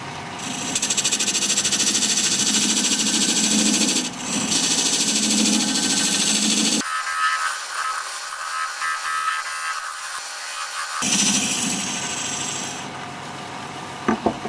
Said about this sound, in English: Now I'm going to use this dovetail tool to put a dovetail on the inside of this recess.